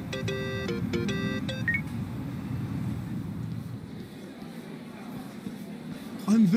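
A phone call beeps in the Yakuza: Like a Dragon video game, with repeated electronic tones sounding at the start over wind-like outdoor ambience and background chatter.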